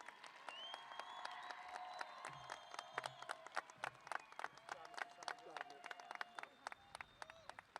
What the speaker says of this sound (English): Let's give our graduating class a round of applause.